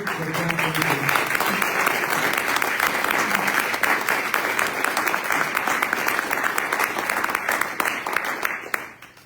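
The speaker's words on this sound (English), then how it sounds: "I just think they need a round of applause." Sustained audience applause for the village firefighters at a State of the Village address, a dense steady clapping crowd filling the room for about nine seconds before tapering off at the end.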